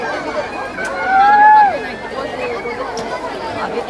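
Busy street festival crowd murmurs all around in a steady babble of many voices, with a brief louder swell of nearby talk midway through.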